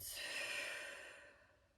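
A long, breathy exhale at the close of a yoga practice, loud at first and trailing off softly over about two seconds, alone with no talk.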